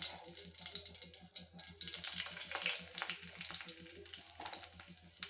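Cumin seeds in one and a half ladles of hot oil in a kadhai, a soft steady sizzle with fine crackling, close and quiet, no talk.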